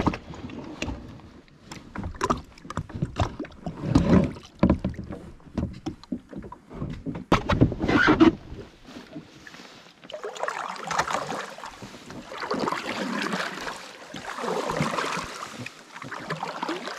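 Kayak paddling on Loch Etive in January, with rhythmic splashes and paddle strokes close by, then a steadier rush of water against the hull as the boat glides on, with no voices.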